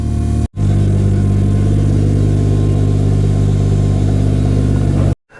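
Mercedes W124 with a swapped Toyota 2JZ engine revs hard and holds against the rev limiter, a loud, close, buzzing drone with a rapid stuttering pulse, cut off briefly at the start and end, no speech.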